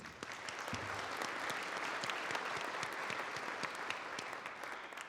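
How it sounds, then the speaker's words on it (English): A breakfast audience at a university scholarship event applauds, dense even clapping that holds steady at moderate distance for the whole stretch. "let's give them a round of applause."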